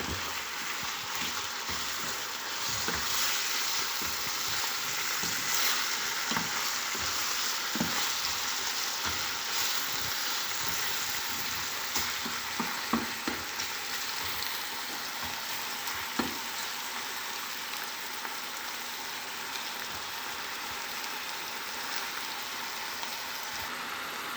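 Chicken pieces fry in a pan as they are turned over, giving a steady close sizzle with occasional crackles and scraping clicks, no one speaking.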